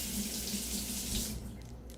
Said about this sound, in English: I'm going to rinse off my little spatula.